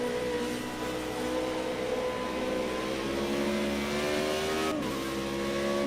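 Race car engine in Project Cars 2 sim racing, droning steadily at high revs with a near, loud tone, then dropping sharply in pitch around a downshift into third gear before pulling again.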